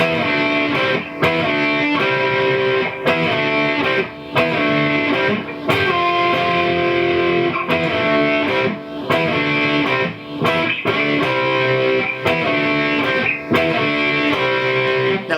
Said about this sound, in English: I'm going to keep the distortion on just to show you